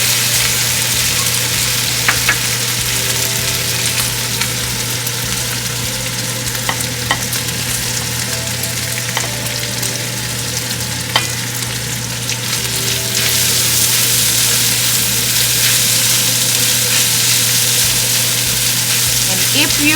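Garlic and onions fry in a pan for fried rice, making a loud, steady sizzle with occasional light clicks of stirring and a low constant hum underneath, swelling slightly louder near the end.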